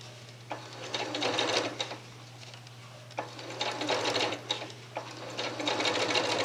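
Domestic sewing machine piecing curved quilt seams, running in three close, loud bursts of rapid stitching separated by short pauses, with a low steady motor hum underneath throughout.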